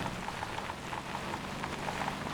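Steady rain falls in the driving game Motor Town: Behind the Wheel, a constant hiss of drops on the surface that stays even throughout, with no speech.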